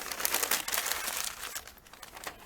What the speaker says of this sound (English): So take the second piece of newspaper and crumple it up